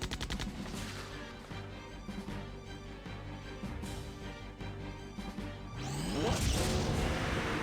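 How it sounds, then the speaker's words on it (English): Sustained gunfire in the video game Septerra Core, a steady stream of rapid shots over a droning background, swelling into a louder whooshing blast near the end. "They do like shooting each other."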